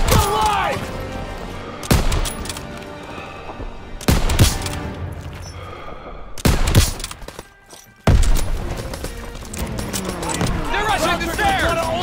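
Gunfire in the video game Call of Duty WW2, with loud bursts of automatic and rifle fire and heavy booms in rapid volleys, separated by brief lulls, while soldiers shout over the battle.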